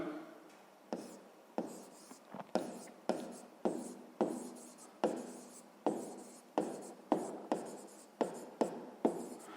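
A pen scratches across paper as a table is filled in by hand, a close run of short, distinct strokes repeating at an irregular pace, with no speech.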